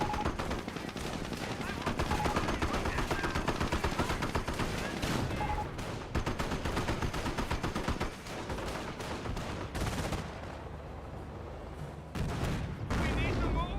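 Sustained machine gun and rifle fire from a Company of Heroes battle, rapid dense bursts rattling almost without pause, with heavier blasts mixed in and voices talking over the fighting.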